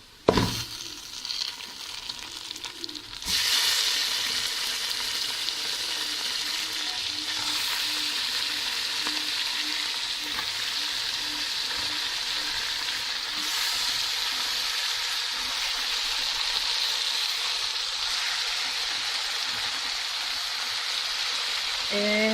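Meat being added to a pan of onions already fried golden, a brief quieter stretch then a loud steady sizzle and crackle of frying that holds on evenly, close up with no talking, for a cauliflower dish.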